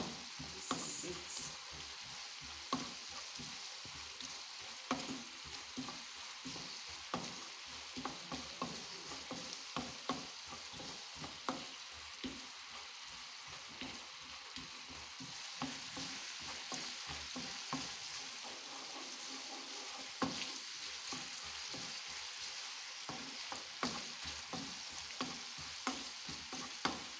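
Coconut and sugar cooking down in a pan for coconut candy, stirred continuously with rhythmic scraping strokes over a soft, quiet sizzle, no voices.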